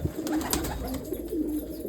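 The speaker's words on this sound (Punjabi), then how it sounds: "ਇਹ ਹੈਗਾ ਕਮਗਰ ਕਬੂਤਰ ਲਾਲ ਅੱਖਾਂ ਦੇ" A colony of red-eyed Kamagar pigeons keeps up a continuous low cooing, several birds overlapping in soft, repeated throaty phrases at close range.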